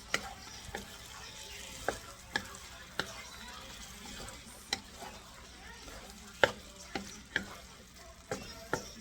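A spoon scrapes and taps through orange chicken sauce thickened with cornstarch, soft irregular clicks and stirs over a faint simmering sizzle, fairly quiet and close.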